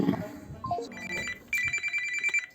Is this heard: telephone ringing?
yes